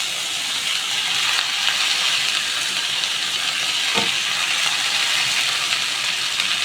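Steady, close sizzle of spinach (palak) and spring onion frying in a pan with onions, a continuous hiss with no talk over it.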